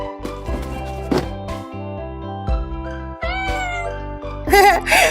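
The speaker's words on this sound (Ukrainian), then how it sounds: "Це ж кошеня." A kitten meows repeatedly, high and plaintive, with short pauses and some soft thumps between cries, ending in a few quicker squeaky mews.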